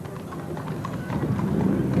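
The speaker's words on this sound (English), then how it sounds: "those two horses have competed at many of our horse shows" Two horses, some dressed in Christmas finery, clip-clop along a street in a 1991 Santa Claus parade in Bowmanville, their hoofbeats steady and fairly faint beneath crowd noise and a commentator's voice.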